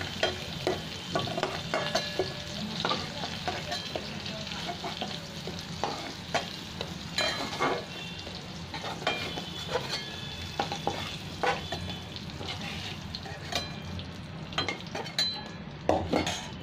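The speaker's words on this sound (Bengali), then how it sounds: "একটু ঢাকা দিয়ে দিয়ে ভালো করে একটু ভেজে নিচ্ছি সবজিটা।" Pointed gourd and potato pieces frying in oil in a pan: a steady close sizzle with frequent scraping and clinking of a spatula stirring against the metal, no voices.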